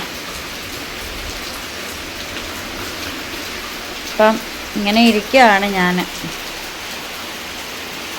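Monsoon rain falls steadily in a constant patter on surfaces nearby, while a person talks briefly over it midway.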